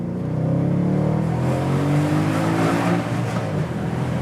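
A Mercedes-Benz C63 AMG at full throttle on a snowy road, its engine roaring loud and close in a sustained, steadily building growl, with no talking.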